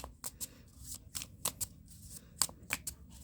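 Tarot cards are shuffled by hand close up, giving quick papery riffles and slaps in an irregular rhythm, several bursts in a row with brief pauses between.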